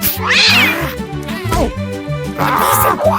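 A cat meows loudly and repeatedly up close, drawn-out yowls rising and falling over a low hum.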